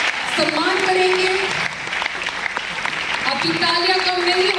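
A big concert crowd in Mumbai claps hard and continuously at a worship concert, with a voice speaking over the thick wash of clapping.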